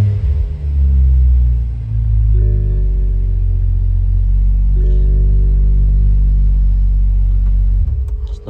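A BMW N55 car engine with a suspected Valvetronic fault cranks and runs briefly at a low, steady rumble, then shuts off near the end; a few faint clicks accompany it, with no talking.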